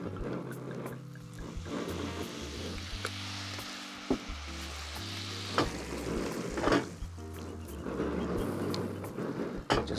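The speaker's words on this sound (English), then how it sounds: "In the same pan, I put butter and then a little bit of white wine." Butter and a splash of white wine sizzle steadily in a hot pan used for cured salmon, a soft continuous frying hiss with a few sharp pops and clinks of a utensil.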